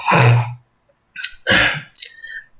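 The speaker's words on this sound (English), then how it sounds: "I'm having some cold cough" A few harsh coughs and throat-clearing bursts from someone with a cold, close to the mic, separated by short silences, no talking.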